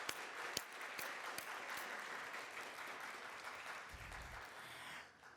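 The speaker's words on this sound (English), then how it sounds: "So please give them a big round of applause." An audience at a university Three Minute Thesis final applauds the finalists with steady, fairly faint clapping that holds evenly and then tapers off at the end.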